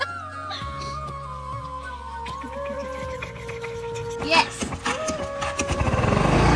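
Scooter engine starting and idling, a low motor rumble beginning under close conversation, with a sharp clatter and the engine note rising toward the end.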